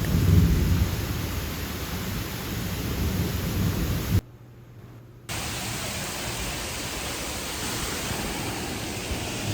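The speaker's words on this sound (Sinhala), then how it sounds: "අදත් සමර් එක මැද ගොඩක් වහින ස්ටෝමි වෙදර් එකක් තියෙන දවසක්" Heavy rain pours in a steady loud wash during a summer thunderstorm, with deep rumbling thunder early on; the sound cuts out for about a second, then the downpour resumes at a constant level.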